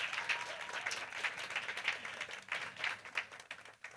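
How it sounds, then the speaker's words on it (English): An audience applauds the women present at a Nedbank-hosted gathering, a moderate wash of many hands clapping with distinct close claps standing out, fading slightly toward the end. "can we please get a loud round of applause for each of you as the women who are present"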